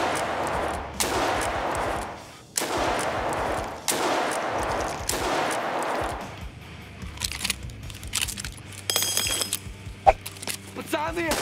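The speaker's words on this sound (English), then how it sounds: "single action shots" A pistol fired in single-action shots in Escape From Tarkov, five sharp, evenly spaced reports about a second apart, followed by metallic clicks and handling noises, with someone talking over the sequence.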